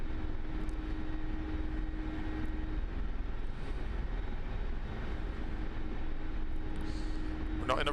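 Mi-24 Hind attack helicopter hovering slowly over a pad in the DCS flight simulator, a steady broadband rotor and turbine roar with a constant low hum running throughout, a brief higher-pitched sound near the end.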